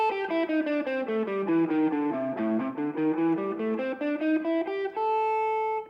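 An electric guitar runs a quick stepwise chromatic blues scale down and back up, notes steady and even, ending on a sustained held tone.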